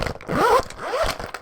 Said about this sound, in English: Ready for some zipper ASMR?